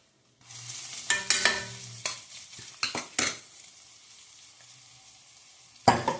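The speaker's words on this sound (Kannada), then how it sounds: "ಈಗ ಇನ್ನೊಂದು ಸ್ಪೂನ್ ಬೆಣ್ಣೆ ಹಾಕೋಣ." Butter added to a hot pan for dhaba-style palak paneer gravy sizzles softly, broken by several sharp clinks and scrapes of a spoon against the pan, then a final clatter.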